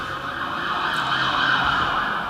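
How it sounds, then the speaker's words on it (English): An ambulance siren wails continuously at a fairly loud level, with passing traffic rumble underneath. "And there's my ambulance."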